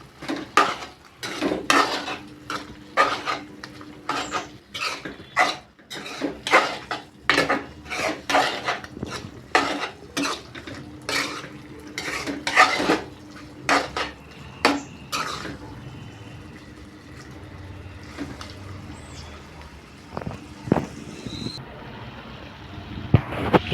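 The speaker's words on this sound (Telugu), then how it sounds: "ఇప్పుడైతే నేను మొత్తం కలుపుకుంటున్నాను" Chicken curry with chili powder and spices being mixed in a pot, a spoon scraping and clanking against the metal in quick repeated strokes, close and fairly loud, easing into softer stirring near the end.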